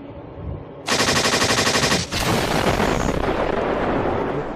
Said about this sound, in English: Oh, don't tell me it's another gunshot.